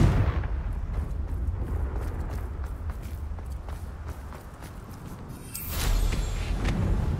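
Hogwarts Legacy's Confringo fire spell goes off in a loud booming rush that rumbles and crackles for several seconds, then a second fiery surge swells near the end.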